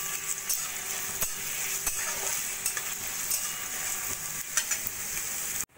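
Sliced onion and thinly cut garlic cloves sizzle steadily in hot oil in a pan for a bhindi dish, a continuous close frying hiss with occasional stirring clicks and no voices.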